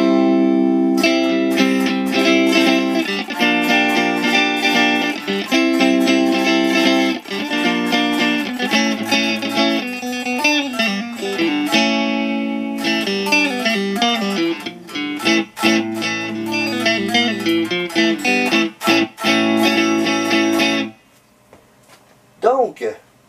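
Clean electric guitar played through the neck pickup with no effects, a continuous run of sustained notes and chords for about twenty seconds before it fades out.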